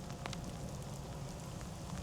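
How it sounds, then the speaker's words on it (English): Heavy rain pours down steadily at a roadside café stop in Winscombe, North Somerset, a dense continuous hiss with no voices. "It started to chuck it down with rain"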